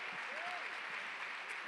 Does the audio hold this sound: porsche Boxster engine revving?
no